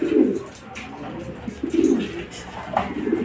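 A racing pigeon coos at the loft after arriving from a derby race, with several low, throaty coo phrases repeating close by among faint background rustles.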